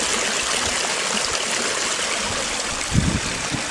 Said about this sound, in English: find a fast flowing fresh water source.